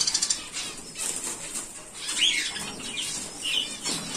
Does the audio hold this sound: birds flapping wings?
yes